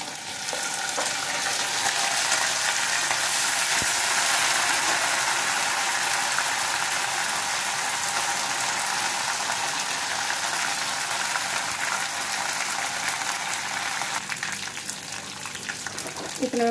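Curry leaves and broken red chillies crackle and sizzle in hot oil for kadhi, a loud, steady frying hiss that runs unbroken throughout.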